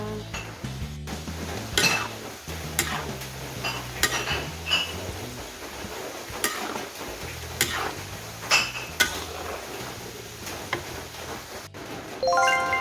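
Salty crispy Thai snack dough, khanom krob khem, fries in hot oil. A steady bubbling hiss runs beneath repeated clinks and scrapes of metal utensils stirring against the pan.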